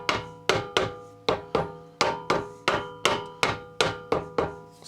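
Light hammer taps seat a part of a Honda GX140 small engine down over its dowels: about eleven sharp, evenly spaced metallic knocks, each ringing briefly, close and alone without talk.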